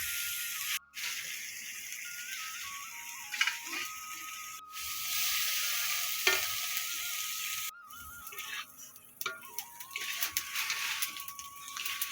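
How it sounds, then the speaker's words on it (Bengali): Spice masala frying in a pan after a splash of water, a soft continuous hiss and sizzle broken by a few brief gaps, with occasional stirring. "একটু জল দিচ্ছিলাম, মশলাটা ভালো করে ভাজা করে নেব।"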